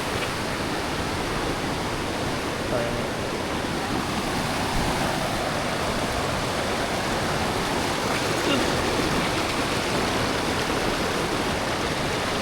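A waterfall and stream pour in a steady, dense roar of flowing water that stays constant and close throughout, with no talk heard.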